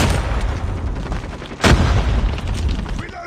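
A frag grenade going off in Call of Duty Mobile during a team deathmatch, a sudden loud boom partway through amid continuous dense gunfire and battle noise.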